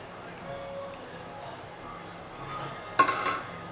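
A spoon scrapes and stirs ground spices into an egg curry pot, ending with a few clinks and clatters of metal against the pan.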